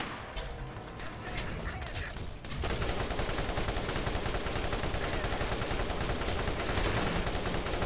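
Shotgun fire in Borderlands, dense, loud rapid blasts in a heavy firefight that erupts after a couple of seconds and continues without pause.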